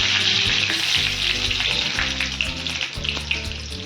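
Crushed garlic, asafoetida and curry leaves sizzle hard in hot oil with popping mustard seeds, a loud continuous fry with crackles, close and without any voices.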